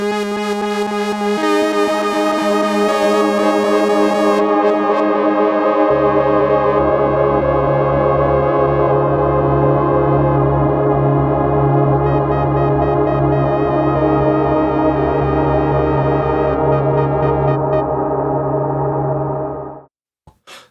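Meris LVX guitar pedal preset running a granular glitch into a filtered reverb and delay with pitch shifting, a sustained shimmering wash with layered pitched tones and a steady low drone, loud and continuous before cutting off near the end.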